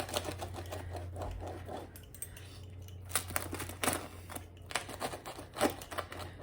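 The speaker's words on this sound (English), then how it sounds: "Cut a little piece off there." A knife cuts through a crusty French bread pizza in a series of crisp, crunchy taps and clicks, some louder than others, close up with no talking.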